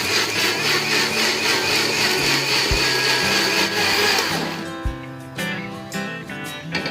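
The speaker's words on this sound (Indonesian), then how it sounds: "Ini aku haluskan ke dalam blender sampai benar-benar halus." A blender roars loudly while grinding a thick mixture of garlic, shallots and chili, its motor pitch shifting as the contents churn, then easing to a lower hum.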